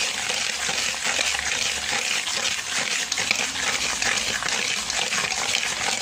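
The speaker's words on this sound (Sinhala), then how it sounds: "දැන් නැවත හොඳින් මිශ්‍ර කරන්න." Cake batter with sugar is mixed hard, giving a dense, continuous wet swishing and churning close up, steady for several seconds with no voices.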